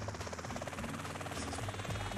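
A helicopter flies in the video game GTA San Andreas, its rotor a dense, continuous buzzing thrum that stays loud and steady throughout.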